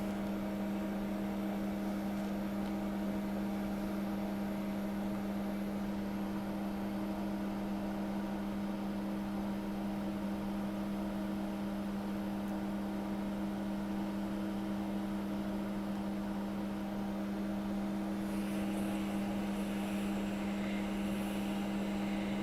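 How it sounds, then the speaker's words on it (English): A fume extractor fan runs steadily during soldering and preheating work on a MacBook Pro Retina A1502 logic board, producing a constant mechanical hum with a strong low drone and broadband airflow hiss, alone and unchanging throughout. "Thank goodness the fume extractor works well."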